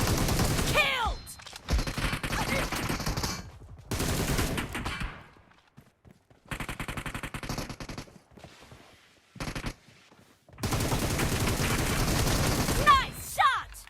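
Bursts of rapid automatic gunfire from a BGMI team deathmatch with the M762 rifle come in loud volleys separated by short quiet gaps, with game voice callouts mixed in.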